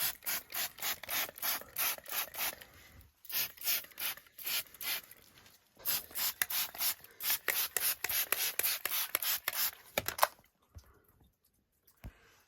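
Tightening a leaking gas pipe fitting with a ratchet wrench, a rapid series of close, crisp clicking strokes in bursts with short pauses, ending with a few scattered clicks.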